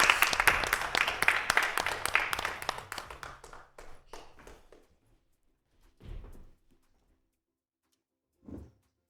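Audience applause at a live music morning performance by an inclusive band, loud dense clapping that thins and fades out over several seconds, followed by a couple of isolated thumps.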